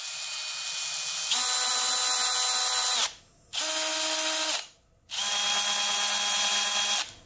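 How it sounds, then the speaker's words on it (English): An electric drill spins a bent engine valve from a Yamaha Raptor 660 quad in three loud, steady bursts, starting and stopping with short pauses between runs. "let's put this in the drill and see how crooked that was"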